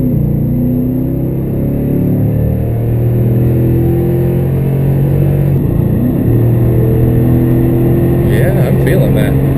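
Toyota Tundra TRD with a new intake accelerating under load, a loud, close engine drone whose tones rise steadily, dip at a gear change, then climb again.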